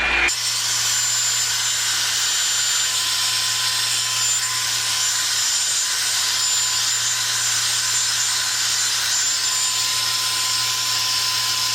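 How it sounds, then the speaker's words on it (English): A Revlon One Step hair dryer blows hair dry at home, giving a constant, loud, steady rushing whine of air and motor for the whole stretch with no talking. "we're gonna go ahead and blow dry them"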